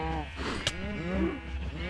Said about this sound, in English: let's cut this down to a reasonable amount of cows